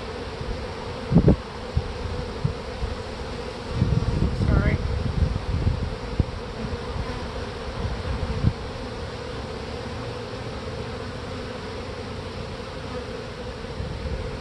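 Honey bees hum at an open hive during queen rearing work, a close, continuous buzz with a few louder passes near the microphone, plus light handling sounds.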